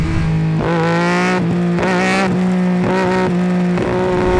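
A Triumph Daytona 675 sport motorcycle engine with an Arrow exhaust roars loudly and continuously at high revs, with pitch rising and dipping as the throttle is blipped several times.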